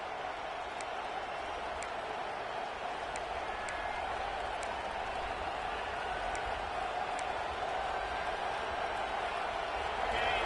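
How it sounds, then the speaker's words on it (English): A video game stadium crowd in an NCAA 26 college football match, a steady dense roar of distant fans with faint high whistles, continuous and even throughout. "This crowd bringing the energy and noise early"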